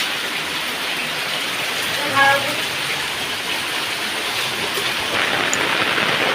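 Continuous heavy rain pouring down in Vatam village, Banaskantha, Gujarat, in a steady wash of noise, with a brief faint voice-like sound partway through.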